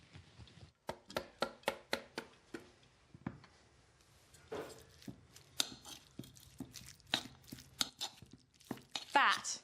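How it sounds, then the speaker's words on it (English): Cheddar cheese rubbed against a grater in a home kitchen gives a run of crisp, rhythmic scraping strokes, close and fairly quiet, with short pauses between strokes. "Now I just want to grate a bit of cheddar in."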